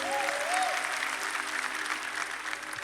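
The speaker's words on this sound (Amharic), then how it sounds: "አጨብጭቡ ለጌታ ክብር" A church congregation claps together during a sermon, a dense steady wash of applause throughout, with a brief musical tone at the start.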